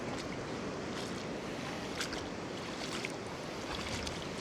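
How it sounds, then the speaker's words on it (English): Sea waves break with spray blown backwards by the wind on a coastal walk near Castlerock, forming a loud, continuous roar and wash mixed with gusty wind buffeting, close and without talk. "So you see the spray now in the waves, the spray being blown backwards."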